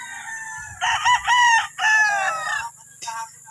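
A game farm rooster crows loudly and close by, a long strained call with a few clucks before it, over faint background noise.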